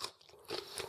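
Crunchy home-fermented, low-salt pickled cucumbers being bitten, a faint, brief, close crunch followed by a crisp crackling snap.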